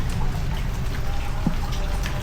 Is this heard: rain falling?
yes